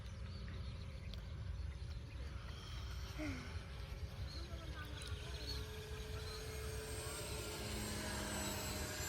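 A steady engine drone holds throughout as an RC airplane flies overhead, thin and moderately distant, under wind and faint voices.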